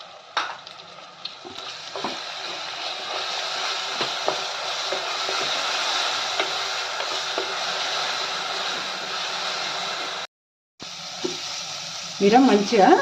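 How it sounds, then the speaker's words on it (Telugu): Ground green chilli frying in a pan for sweet pumpkin curry, a loud, steady sizzle with scraping stirs, briefly cut off near the end before resuming with more clattering. "ఆ పచ్చిమిరం వేసుకొని మంచిగా కొంచెం వేయించుకోవాలి."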